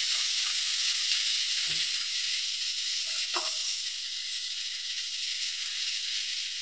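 Chopped onion and ginger frying in hot oil, a steady bright close sizzle with a couple of brief knocks of a spoon as it is stirred.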